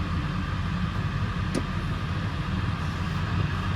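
A Ford F250 Lariat 7.3L Powerstroke turbo diesel 4x4 truck creeps in reverse in 4 low, giving a steady, unbroken low diesel drone with a faint click partway through.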